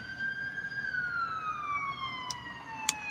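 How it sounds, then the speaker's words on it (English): An ambulance siren wails steadily, its pitch slowly falling as it passes, fairly loud and continuous over street noise with no talk. "There's the ambulance."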